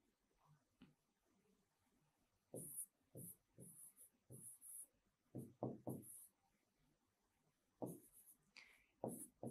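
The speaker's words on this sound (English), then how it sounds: "Let's write." Handwriting on a surface during a science lesson, with quiet scratching strokes in short bursts and taps, close and soft against a faint background.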